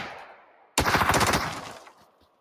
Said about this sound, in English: There's a guy at a distance shooting at me.